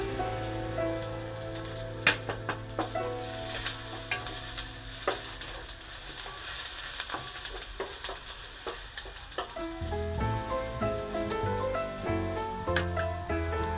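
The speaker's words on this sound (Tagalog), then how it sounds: "So ngayon guys, igigisa na natin ang ating sibuyas." Onion and garlic sautéing in butter in a pan, a steady close sizzle with repeated scraping stirs and light clicks of the utensil, while faint music plays underneath.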